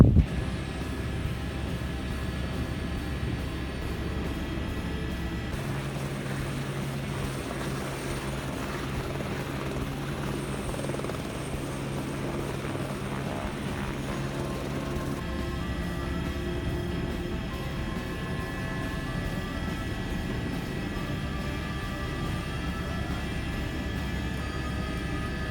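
Helicopter flying a remote diesel generator replacement job, its rotor and engine heard from inside the cabin as a loud continuous drone with a steady low throb throughout.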